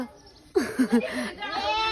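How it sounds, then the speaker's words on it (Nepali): A goat bleats on a village farm in Nepal, a sudden close wavering cry after a quiet start, followed by a longer trailing bleat. "हजुरहरूलाई मैले बाख्रा पनि देखाएँ"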